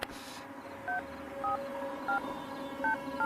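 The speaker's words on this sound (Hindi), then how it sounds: "एक बार कॉल लगाना प्लीज" A telephone keypad dialing a number, with about five evenly spaced two-tone button beeps over a quiet room background, in a Hindi film scene just before a call connects.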